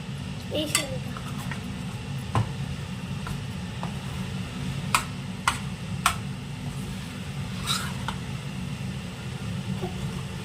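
Fried chicken pieces, cut small, being tossed and mixed by hand for a chicken pickle, giving sporadic clinks and scrapes against a metal bowl over steady background noise.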